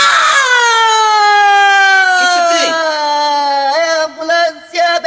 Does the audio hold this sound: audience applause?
no